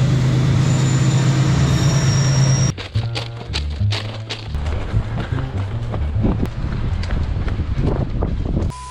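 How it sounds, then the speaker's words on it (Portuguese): A train rolls past on the railway near Véu da Noiva station on the Itupava trail outside Curitiba. A loud rumble gives way to a rapid, rhythmic clatter of wheels over rail joints, heard close by. "Não ouvi o trem, Walter."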